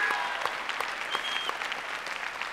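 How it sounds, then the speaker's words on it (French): A television studio audience applauds during a Christmas variety show, producing a steady, dense clapping from a crowd that fills the room at moderate loudness without fading. "Applaudissements pour la petite merveille"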